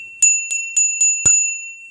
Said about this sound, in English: It has this little bell.